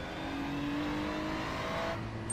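A Ferrari GT3 race car in the iRacing sim racing game runs its engine steadily and loudly, holding a sustained tone with a rising whine before the pitch shifts near the end.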